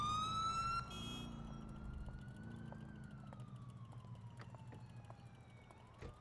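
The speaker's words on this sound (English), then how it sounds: "Looks like I'm gonna end up having to hit the siren when I want to pull somebody over." A police car siren in the LCPDFR police video game wails in a steady rising and falling sweep, loud and continuous over a low engine and traffic rumble.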